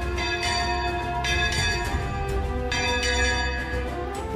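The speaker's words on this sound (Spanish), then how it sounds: "En la torre campanario de la iglesia de Santa Catalina." Church bells ring in the bell tower of Santa Catalina church in La Solana, Castilla-La Mancha, the relatively new bells striking repeatedly in a steady, reverberant, moderately distant peal with no voices.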